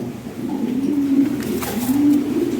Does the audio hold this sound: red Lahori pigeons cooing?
yes